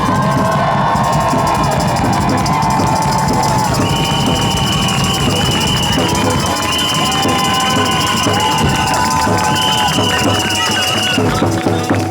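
A large protest crowd in Toronto cheers, shouts and whoops continuously, loud and dense throughout, with voices calling out over the steady roar.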